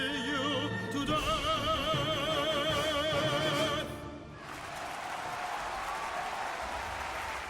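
Applause from the video game Mario + Rabbids swells as a broad wash of clapping after a sung melodic passage fades, continuing steadily to the end.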